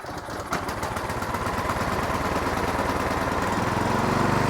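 An Ariens Professional 32" snowblower engine catches after a pull start, with a brief tug at the beginning followed by a loud, close, rapidly pulsing run that grows steadier and slightly stronger as it settles, and no one talking.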